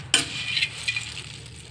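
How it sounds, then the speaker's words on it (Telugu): Whole cloves and cinnamon sticks dry-roasting in a pan for homemade garam masala give a sharp clink at the start, then light rattling and scraping as the spices are stirred, close and fairly quiet. "రెండు కలిపి వేయించేస్తున్నాను, లవంగాలు దాల్చిన చెక్కనే."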